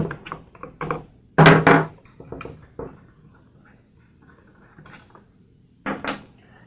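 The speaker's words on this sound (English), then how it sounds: "So I'll start by removing the spark plug." Metallic clicks and ratcheting clatter from a socket wrench loosening the spark plug on a two-cycle small engine, a few short bursts of close mechanical handling separated by quiet pauses.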